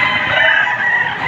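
A rooster crows loudly and close by, one drawn-out call held steady throughout, at a chicken market in Padre Garcia, Batangas.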